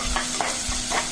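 Onions and green chillies sauté in a pan for a curry, giving a steady, close sizzle with soft scraping strokes of a stirring spoon, and no voices over it.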